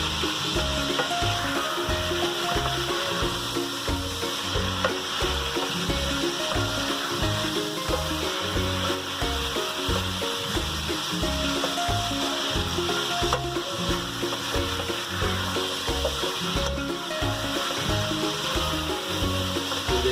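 Chicken pieces frying on a high flame in a karahi give a loud, continuous sizzle with steady crackling and bubbling that runs unbroken throughout.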